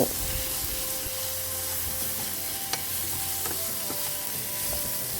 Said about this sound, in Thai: เขาก็เอาหมูบดเข้าไปพัดกับน้ำพริกมันหอมๆแล้วก็ ผัดหมูให้มันซุกนะเจ้า